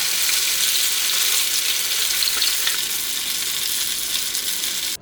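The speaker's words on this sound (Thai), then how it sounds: "อ่านี่ก็ถึงขั้นตอนการทอดเส้นนะคะ" Noodles fry in hot oil with a loud, continuous hiss and crackle that runs steadily throughout and cuts off abruptly at the end.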